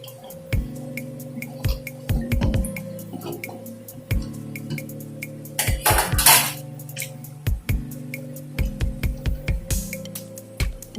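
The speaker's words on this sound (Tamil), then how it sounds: "இந்த மாதிரி நல்லா மிக்ஸ் பண்ணிக்கணும்." Banana flower vada batter being mixed by hand with chopped onion, coriander leaves and curry leaves: close, repeated wet squelches and soft clatters against the bowl in uneven bursts, with a brief louder rustle midway.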